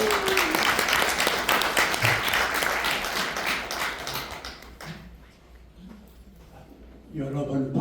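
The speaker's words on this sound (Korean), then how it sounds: "우리 나오실 때 우리 환영의 박수 한번 드리겠습니다." An audience at a Korean book launch event applauds to welcome a speaker, with dense clapping that is loud at first and then tapers off. An announcer talks over the applause and a voice comes in again at the end.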